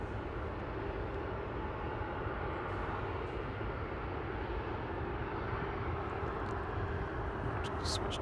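A passenger airplane taxiing at Manchester Airport gives a steady, broad engine rumble and whine, fairly distant and unchanging throughout, with faint hiss in the background.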